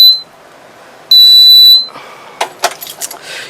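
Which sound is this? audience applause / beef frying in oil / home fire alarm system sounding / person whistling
home fire alarm system sounding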